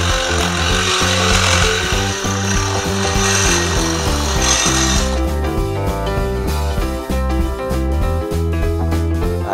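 An old power drill working through angle iron and pallet wood on a DIY stand project, giving a loud, continuous grinding and rasping sound that shifts to a harsher, steadier buzz partway through.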